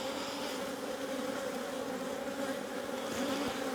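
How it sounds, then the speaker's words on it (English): Honey bees hum inside a crowded hive box, a dense, even buzz heard up close with no voices. "Plenty of bees in here though."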